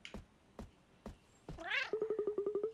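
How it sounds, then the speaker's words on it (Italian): A crazed farmer character from the Cat Quest video game snarls and growls. A few soft thumps come first, then a rising yowl, then a fast, rhythmic run of short, loud growling pulses. "ora all'improvviso ha iniziato a ringhiare in quel modo grattoloso"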